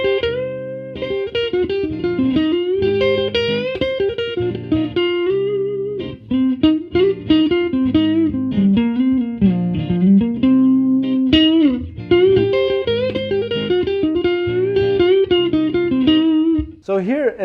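An electric guitar plays a solo through distortion, with sustained bending notes and fast runs of licks that form a continuous, fairly loud melodic line, close and without pauses except one brief break midway.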